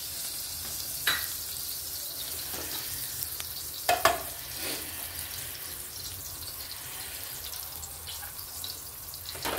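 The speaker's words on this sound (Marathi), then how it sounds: "तर आता आपण टाकणार आहोत अर्धा चमचा जिरं" Cumin seeds sizzle in hot oil for Maharashtrian dhaba-style lasuni methi, a low steady crackling fry close up with a few sharp clinks and stirring taps, no voices.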